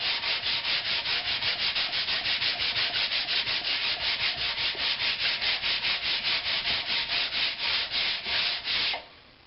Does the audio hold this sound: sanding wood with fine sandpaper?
yes